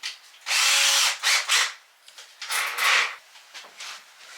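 A power drill boring pilot holes into a stud or truss, several short close bursts that spin up and stop, the first burst the longest.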